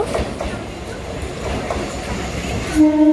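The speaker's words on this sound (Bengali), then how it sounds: "ট্রেন আসছে ট্রেন বাবাজি আসছে দেখতেই পাচ্ছ" A train rumbles steadily close by as it arrives at Tollygunge railway station in Kolkata, with a brief horn-like tone near the end; a faint voice is heard under the noise.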